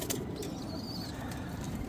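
Pigeons cooing on a rooftop where they nest, soft low coos repeating steadily under a constant hum of background noise, with a few faint chirps.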